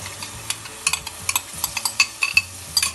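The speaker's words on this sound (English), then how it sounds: "we will stir this continuously so it doesn't curdle" A spoon stirs a yogurt mixture with red chili paste in a pan, quick irregular scraping and light clinks over a faint low simmer, close and without voices.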